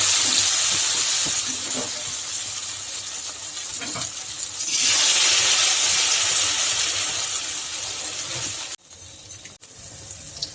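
Cornflour-coated vegetable pieces frying in hot oil for a vegetarian omelette, a loud, dense, continuous sizzle close to the pan that swells midway, then drops and leaves a few scattered crackles and clicks near the end.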